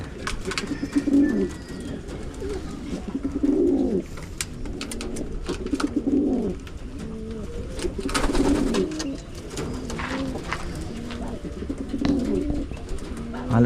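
Pigeons, including a pair of black eagle birds, coo in a loft: soft, rounded, throaty calls repeat every couple of seconds, nearby and fairly loud, with faint chirps and rustling in between.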